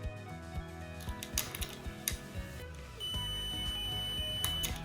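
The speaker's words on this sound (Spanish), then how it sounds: "Entre ambos extremos de cada una debe sonar el pitido." A few scratchy clicks and taps, then a continuity tester held across the ends of a coil lets out a steady, high-pitched beep that holds to the end.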